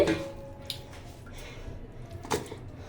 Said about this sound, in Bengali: এখানে মাংস দিয়ে দিচ্ছি